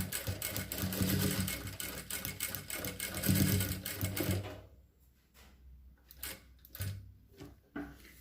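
Sewing machine stitching a square neckline on fabric, turning at a corner: a steady close whirring run for about four seconds, then short bursts of stitching separated by quiet pauses.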